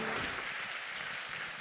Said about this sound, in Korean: 힘차게 축복의 박수로 환영하겠습니다